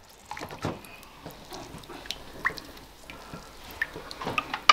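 Water dripping from a pierced oscypek sheep's cheese, a series of small scattered drips and splashes, fairly quiet and close, over faint background noise.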